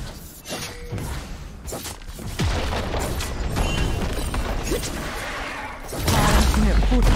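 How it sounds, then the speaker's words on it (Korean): A turret crumbles in League of Legends: a dense burst of booming, crashing destruction swells and keeps rumbling for several seconds, with a spoken game announcement mixed in. "파란 팀의 포탑이 파괴되었습니다."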